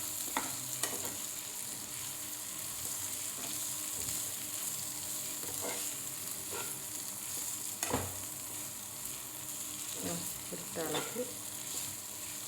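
Grated coconut, garlic and cumin sizzle and fry steadily in a pan for a Kerala jackfruit-seed thoran, with occasional stirring scrapes over the constant hiss; no one speaks.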